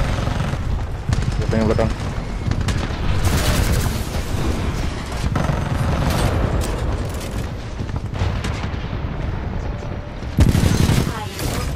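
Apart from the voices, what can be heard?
gunfire in the Attack on Titan video game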